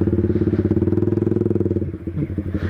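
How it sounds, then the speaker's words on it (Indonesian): A motorcycle with a loud aftermarket exhaust, close by, popping in a rapid pulsing rhythm that steadies, then shifts and rumbles unevenly. "Exhaust ni tak boleh bawa bincang kalau masuk sekolah. Bising dia"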